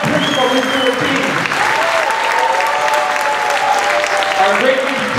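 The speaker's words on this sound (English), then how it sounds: "We have a round of applause for our jazz band, our advanced band, our beginner band" Steady, loud applause from an audience at a school music event for the jazz, advanced and beginner bands, dense clapping sustained throughout with some voices and cheers mixed in.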